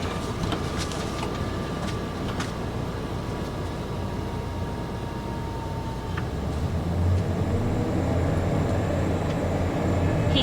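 Gleaner combine harvester driving through a soybean field at harvest, a steady loud engine drone and rumbling machinery running throughout with no breaks, close by and dominant, with a slight rise in low rumble toward the end.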